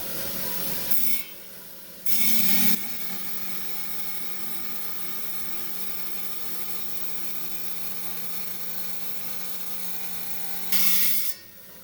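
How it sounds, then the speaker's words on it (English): A Sarape jasper slab is trimmed on a saw for a cabochon, making a continuous close grinding hum with a brief louder burst near the start and another near the end. "And do a little trimming."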